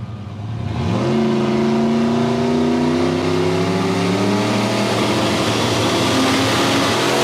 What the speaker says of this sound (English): You could hear it got up on the limiter pretty early.